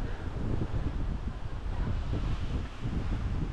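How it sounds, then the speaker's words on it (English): Strong wind roaring across the microphone in a constant, gusting rumble at the exposed Boranup lookout near the ocean, with no one speaking. "the lookout is windy as."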